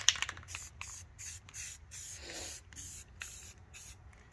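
Aerosol spray paint hissing in repeated short bursts onto engine parts of an International truck being restored, each spray a steady broadband hiss separated by brief pauses, close and moderately loud.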